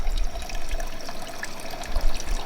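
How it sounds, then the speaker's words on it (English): A small splash of white wine is poured into a cooking dish, giving a steady close trickle of liquid that runs unbroken for a couple of seconds. "you've got to put a little bit of white wine in there"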